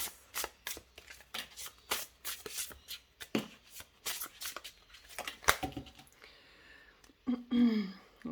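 Tarot cards being shuffled by hand, a rapid run of crisp riffling and slapping bursts, close and fairly loud, with a brief softer rustle and a short voiced sound near the end.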